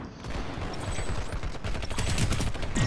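Gunfire from the Planetside 2 video game with the NS-7 PDW, dense, rapid automatic bursts close up, continuous through the clip and building slightly in loudness, with no voices.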